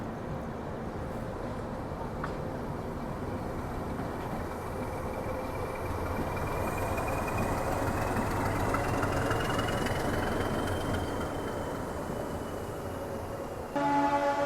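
A diesel locomotive shunts in a large maintenance rail yard at Santragachi, its engine a steady low rumble with a long drawn horn-like tone rising midway, heard from moderate distance and continuous.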